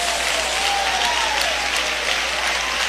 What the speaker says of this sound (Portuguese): aplausos misturados com glória